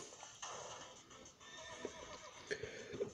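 A horse whinnies in the video game Fire Emblem Awakening, a bright wavering neigh over soft hoof clip-clops and quiet game ambience, moderately loud and close.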